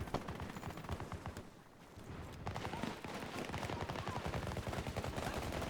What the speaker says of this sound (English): why is my gun in single shot?